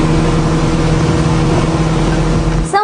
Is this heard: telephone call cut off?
no